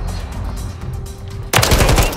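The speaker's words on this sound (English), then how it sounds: "I was running up the damn left, and I was getting shot at" Video-game gunfire crackles in the background, then a loud burst of rapid machine-gun fire breaks out close by and keeps going to the end, with no talking.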